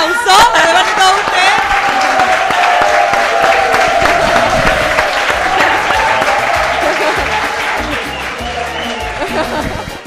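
A studio audience closes out a TV show with loud, sustained applause and cheering, a dense roar of many hands close up, with voices and music mixed underneath.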